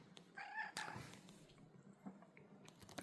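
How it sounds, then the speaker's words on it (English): A soft-furred female cat close by makes quiet, brief meow-like chirps over a faint low purr, with small rustles and no talking. "You have such a pretty purr."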